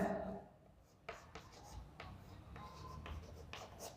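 Close, quiet scratching of a pen writing on paper, short strokes with small taps and pauses between them, no talk.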